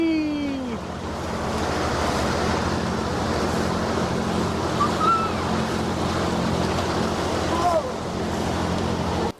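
A sailing boat rides small waves on a Belgian inland river, a steady rush of water and wind noise against the hull throughout, with a few faint distant chirps.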